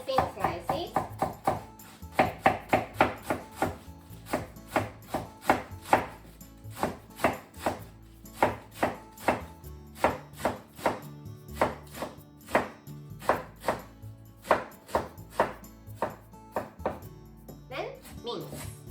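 A knife cuts thin slices and then minces pressed, flattened leaves for gyoza-style meatballs on a cutting board, making crisp rhythmic chops. The chops come in quick bursts and then in steadier strokes, up close.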